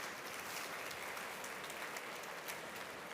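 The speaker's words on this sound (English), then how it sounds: "So if you want, applause." Audience applause after a conference talk at a marketing trade event: continuous, even clapping from a crowd, quiet and somewhat distant, with no voices over it.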